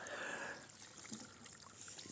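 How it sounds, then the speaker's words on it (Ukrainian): Water trickles and gurgles through a hose from a quartz sand filter pump, a faint, soft flow at close range, steady for a couple of seconds. "О, пішла. От пішла вода."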